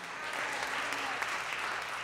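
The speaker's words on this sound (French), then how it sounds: "On applaudit Jésus-Christ de Nazareth." A church congregation applauds during an Easter worship service, steady dense clapping filling the room, with voices faintly underneath.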